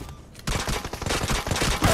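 Rapid bursts of automatic gunfire from PUBG Mobile erupt after a quiet half-second, continuing loud and dense in a steady rattling stream to the end.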